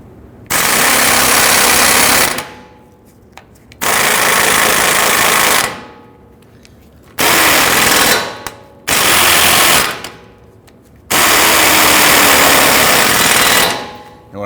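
An impact wrench spins an 18mm deep socket against a rear suspension nut on a 2010-2019 Ford Taurus, firing five loud, harsh bursts of about one to two seconds each, separated by short quiet gaps as the trigger is released and pulled again.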